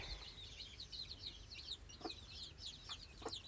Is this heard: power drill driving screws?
no